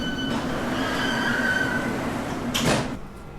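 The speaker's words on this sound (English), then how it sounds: "This is a Central Line train to West London." A London Underground Central Line train rumbles steadily with a ringing whine, then a brief rush near the end as the carriage doors slide, with no talk.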